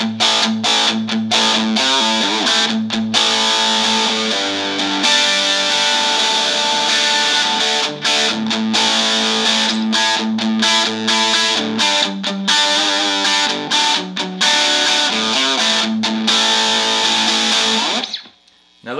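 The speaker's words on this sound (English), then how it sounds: "I'm gonna play it with the crunch and clean through this little cheap 15 watt Fender amp" An electric guitar with P-90 pickups plays through a small, cheap 15-watt Fender amp with crunch and no effects, loud strummed chords and riffs ringing continuously for nearly twenty seconds before cutting off.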